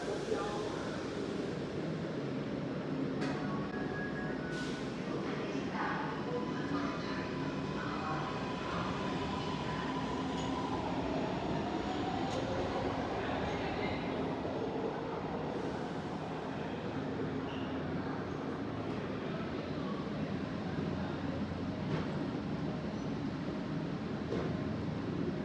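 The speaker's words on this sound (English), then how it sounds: "After watching an Indian Creek train and our own train depart" A MARTA metro train in Atlanta rumbles and rolls as it departs a station, a steady low roar with faint squeals and clanks, and muffled voices in the background.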